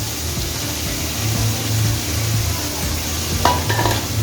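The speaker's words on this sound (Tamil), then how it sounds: "இதில் நான் 2 பெரிய தக்காளியாக நீல வாக்கில் கட் பண்ணி வச்சுருக்கேன், அதையும் சேர்த்துக்குவோம்" Tomatoes sizzle and fry in a pan for Chettinad chicken gravy as a utensil stirs them, with steady frying hiss and occasional scraping clinks against the pan, heard up close with no talking.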